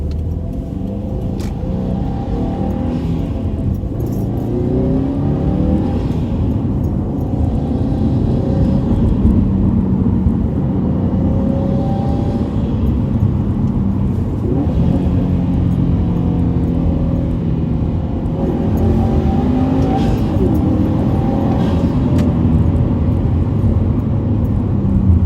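A 2018 Subaru STI fitted with a Cobb cold air intake drives along, its engine a steady, loud, close rumble with gentle swells of revving and induction roar throughout, no talking.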